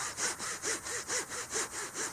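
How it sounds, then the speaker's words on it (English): A dug-up pewter spoon is rubbed clean by hand out in a field. The quiet, steady back-and-forth scrubbing strokes repeat about nine times in an even rhythm. "Well, let's rub it a little bit."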